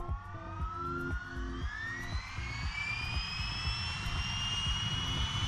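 Jet engines whine loudly at an airport before takeoff, a steady roar with rising high-pitched tones sweeping upward throughout, no voices.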